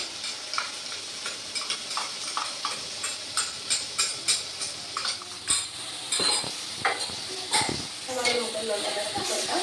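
Sliced onions dropped into hot coconut oil in a pan, with close metallic clinks and stirring scrapes in a repeating rhythm over a soft frying hiss.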